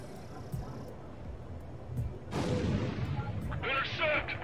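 Anti-aircraft fire in the Ace Combat 7 combat flight game, a sustained roar of gunfire and explosions that swells midway over jet engine rumble, with a voice talking over it.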